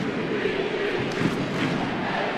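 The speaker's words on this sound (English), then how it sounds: "You can hear the crowd." Stadium crowd at a women's soccer match between Portland Thorns FC and Houston Dash, a steady dense roar of many voices throughout, loud and continuous with faint rising cheers.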